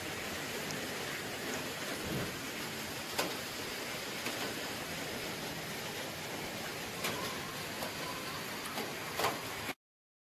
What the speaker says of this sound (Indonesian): Nyuci tenda tapi hujan.